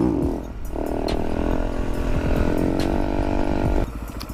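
Motorcycle engine during wheelie training, holding a loud, buzzing drone that rises in pitch as the throttle is held open, then drops back to a lower idle.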